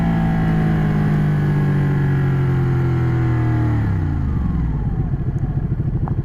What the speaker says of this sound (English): Oh, look, it's a Mustang.